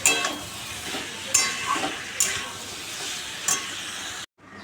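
Papaya, pointed gourd and potato curry sautéing in a pan, with steady close sizzling under repeated spatula stirs and scrapes, a few sharp metallic clinks, then sudden silence at the end.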